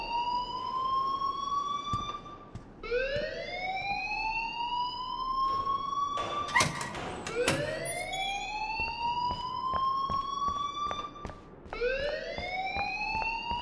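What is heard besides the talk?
alarm ringing in Life Is Strange video game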